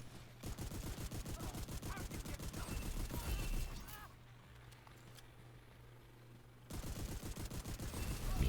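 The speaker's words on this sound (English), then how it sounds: "Just listen to the sound of the shotgun." Rapid shotgun fire in the shooter game The Division 2 comes as dense bursts of loud, sharp blasts, breaks off into a quieter lull, then resumes just as fast and forceful.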